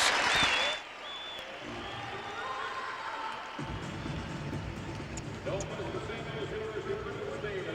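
Arena crowd at a St. Louis versus DePaul college basketball game cheers and applauds loudly during a timeout, a dense sustained roar that dips briefly and then swells again, with voices mixed through it.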